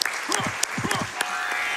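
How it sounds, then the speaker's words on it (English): Brief audience clapping at a speedrun event, a scattered burst of claps with a voice speaking over it. "we're clapping for the front sliding"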